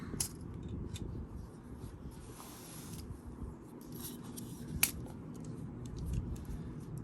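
SoftFlex beading wire is snipped off its spool with one sharp, brief cut, heard close against a steady background hiss.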